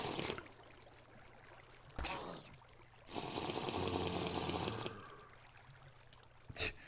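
Milk is drunk in a survival video game, with a short gulping burst followed by a longer, louder swig of liquid sounds over a quiet background hum.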